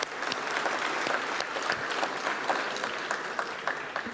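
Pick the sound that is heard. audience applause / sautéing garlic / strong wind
audience applause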